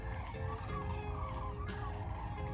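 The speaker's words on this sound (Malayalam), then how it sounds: "ഇതിനകത്ത് മുഴുവൻ ഇപ്പോൾ ഈ കോഴികളെ കൊണ്ട് ഇട്ടേക്കുന്നേ ഉള്ളൂ." Chickens crowded inside a closed room of a large poultry building in an Israeli village keep up a steady, dense clamor of clucks and calls, with a few louder squawks breaking through.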